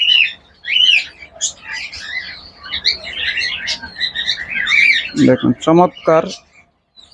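A pet bird held in a hand chirps in quick, bright, repeated tweets close to the microphone, while someone talks over the calls toward the end.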